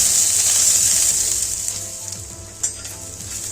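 Two large onions roasting in a pan for Vidarbha-style shev bhaji, a loud close sizzle with scraping stirs and a brief clatter near the end, no talking.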